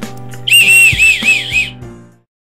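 A shrill whistle blown in two or three long bursts with a wavering pitch, loud and close, while a low steady hum runs underneath and then fades out.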